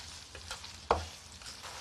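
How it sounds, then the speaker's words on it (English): Onion stir-fried with a spoonful of sugar in a pan, giving a quiet, brief sizzle with one sharp knock of a utensil against the pan partway through, no talk. "Add 1 tablespoon of sugar and stir fry with onion to have"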